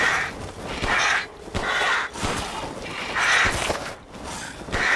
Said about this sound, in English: I ain't trying to get jumped by crows.